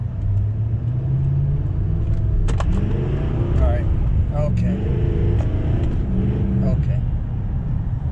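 A diesel L5P Duramax pickup truck with a power tune accelerates, its engine roaring and building under load with a deep, steady rumble, close by, while a person speaks briefly over it.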